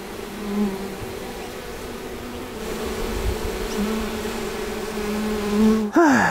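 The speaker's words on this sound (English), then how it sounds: "there's a few bees in a crevice back here" Honey bees buzz close by in a tree stump crevice in a steady, droning hum, with a brief sharp rustle near the end.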